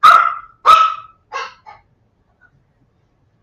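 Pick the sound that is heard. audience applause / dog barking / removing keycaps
dog barking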